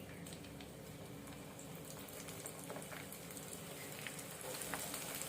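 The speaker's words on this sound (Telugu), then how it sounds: "డీప్ ఫ్రైకి ఆయిల్ హీట్ అయిన తర్వాత మనం రెడీ చేసుకున్న ఈ బెండకాయలని వేసుకుందాం" Okra pieces deep frying in hot oil, giving a steady, dense bubbling crackle that holds at an even level throughout with no pauses.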